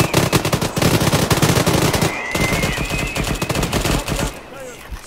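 A mounted machine gun fires in Arma 3, loud sustained rapid bursts with a brief pause before the rattle resumes, a faint whine and distant battle noise underneath.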